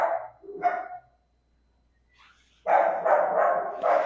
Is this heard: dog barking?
yes